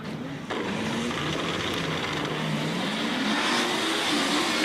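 Drag race between a Nissan S13 and an LSA supercharged Nissan 240 on a street-style strip: after a brief lull, engines roar in loud, sustained acceleration with a rising pitch, steady and close throughout.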